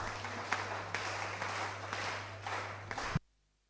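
Applause from an audience at a bhajan gathering in Dharmasthala, dense broadband clapping with a steady low hum beneath, sustained for about three seconds before cutting off abruptly into silence.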